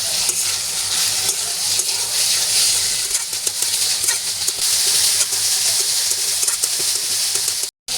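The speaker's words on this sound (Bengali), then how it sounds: "এখন ভালো করে মাংসটা কষিয়ে নিতে হবে।" Chicken pieces stir-fried bhuna-style in a pan with spices for Bengali khichuri, giving a steady close sizzle with stirring scrapes throughout, broken by a brief silence near the end.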